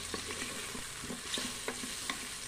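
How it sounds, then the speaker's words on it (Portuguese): Sausage and bacon browning in a pan for a pot of beans sizzle steadily at a low level, with a few soft stirring scrapes breaking through the constant crackle. "Começou a dourar já aqui a linguiça e o bacon."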